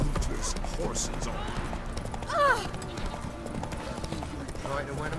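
Horses trot with steady clip-clop hooves in The Witcher 3, close and fairly soft, with characters talking over the hoofbeats and a brief neigh partway through.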